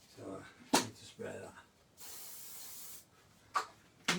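An aerosol can of fixative hisses steadily onto a charcoal and acrylic figure drawing for about a second, close and moderately loud, between short bursts of quiet speech and a couple of sharp taps.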